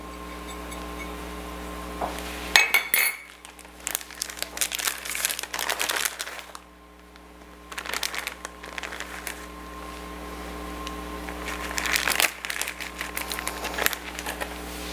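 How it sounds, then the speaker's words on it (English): Aluminum foil crinkling and rustling as it is pressed over a baked ravioli casserole dish, close, in several bursts of crackling with quiet gaps between, over a faint steady hum. "Now we cover this with aluminum foil"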